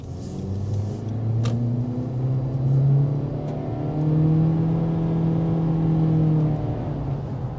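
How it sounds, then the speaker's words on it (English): A 2023 Honda CR-V LX SUV engine revs and pulls hard, its droning pitch climbing steadily as it accelerates, heard from inside the cabin with a constant road rumble. "So let's go ahead and hop into that by getting a hard acceleration."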